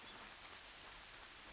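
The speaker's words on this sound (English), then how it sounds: "No, it's raining." Steady rain falls in Horizon Zero Dawn, a soft, even hiss of drops on surfaces that stays constant and fairly quiet throughout with no talk.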